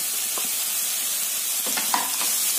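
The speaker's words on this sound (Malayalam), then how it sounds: "ഇതെല്ലാം കൂടെ ഒന്ന് വഴറ്റി അടിക്കണം." Crushed ginger, garlic and chopped curry leaves sauté in a pan with onions, giving a steady close sizzle and a few soft stirring scrapes, with no talk.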